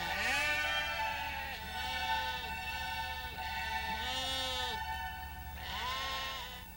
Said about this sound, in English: Sheep herders and their tireless working dogs are gathering their sheep back into the folds.